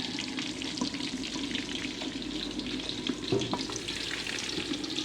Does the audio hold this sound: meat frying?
yes